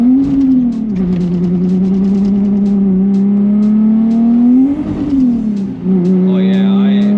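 A 330 hp Infiniti G37s coupe revving steadily on a snowy road as the tires slip and lose grip, its loud droning engine note rising and dipping, with a voice speaking over it.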